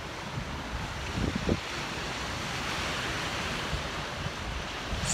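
Broad, steady wash of water from the Columbia River, heard as a constant surf-like rush with gusty wind noise over the microphone, fairly loud throughout with no talk.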